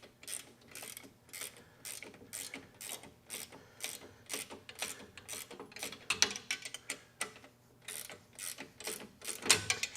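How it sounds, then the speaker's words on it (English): Ratcheting wrench tightening bolts while assembling a steerable cultivator, a long series of quick, evenly spaced clicking bursts, close and fairly quiet, with no talk. "Ratcheting wrench is great."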